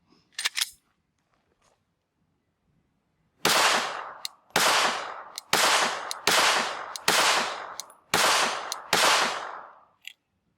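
Glock 28 pistol firing outdoors: a brief sound at the start, then seven loud, sharp gunshots at a steady pace of about one per second, each with a short decaying echo.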